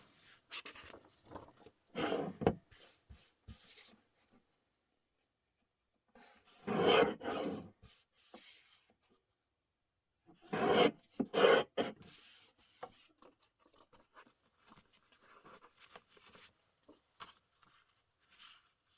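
Journal pages being trimmed by hand, heard as intermittent scraping, rasping cuts in short bursts separated by quiet pauses, close and fairly soft.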